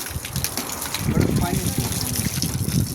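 Hot water gushing and splashing from the outlet of a 200-litre solar water heater, a steady close flow with people talking over it.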